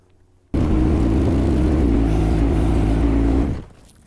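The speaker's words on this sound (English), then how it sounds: "So I'm going to use my mini excavator." A mini excavator's diesel engine kicks in abruptly and runs at a steady loud, low idle drone for about three seconds before fading down, close and alone.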